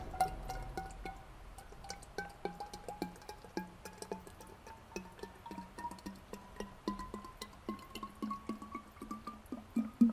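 Transmission fluid pours into a dispenser during a Toyota 4Runner transmission service, a quiet close trickle whose pitch slowly rises as the container fills, with small splashes and drips throughout.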